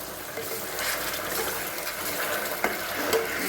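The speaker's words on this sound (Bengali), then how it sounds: "এখন আমি জল দিয়ে দেবো, গরম জল করে রেখেছি।" Hot water poured into a pot of raw banana kofta curry, a steady close-up splashing and trickling wash with a couple of faint clinks near the end.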